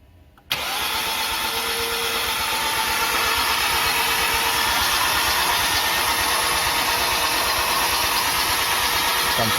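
Rebuilt G4KD engine in a Hyundai ix35 fires on its first start after an overhaul: a brief quiet lead-in, then it catches abruptly and settles into a loud, steady idle close to the microphone.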